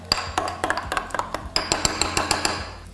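A spoon clinks repeatedly against a bowl while stirring hot sauce, chili flakes, dried garlic and apple cider vinegar together, with sharp, close, rhythmic taps and scrapes.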